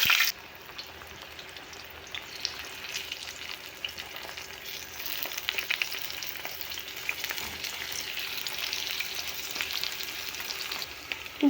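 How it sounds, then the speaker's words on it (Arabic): Eggplant fries in hot oil in a pan, giving a steady, close sizzling hiss with a few small crackles throughout, with no talking. "خليت طاوة بيها زيت، حمى الزيت عندي كل زين"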